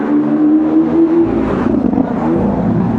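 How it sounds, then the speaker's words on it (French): A red Ferrari drives past on a street in Cascais, its engine a loud, steady close-range roar with a rising tone as it approaches, followed by a broader rush as it goes by. "tiens une Ferrari je crois qui arrive rouge là"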